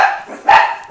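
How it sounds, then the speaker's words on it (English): Indoors, dogs bark in short bursts, two loud, close yips about half a second apart with brief whining between them and no talk over them. "Sorry about the dogs barking in the background."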